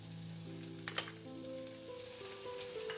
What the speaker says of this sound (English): Saute for 2 or 3 minutes.